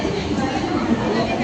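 A local commuter train coach pulls in at a busy station platform, a steady broadband rumble and rattle filling the background while crowd chatter carries on underneath.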